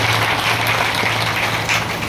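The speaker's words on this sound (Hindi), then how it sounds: "जोरदार तालियों से स्वागत है।" An audience at a Guru Purnima gathering in a Faridabad ashram claps in welcome, a dense, loud burst of applause filling the whole short moment.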